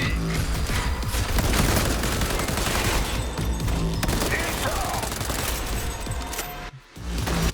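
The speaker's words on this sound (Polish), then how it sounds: "Strzelaj" Rapid bursts of automatic gunfire and booming shots in the video game Cyberpunk 2077, loud and dense throughout with game music, briefly cutting out near the end.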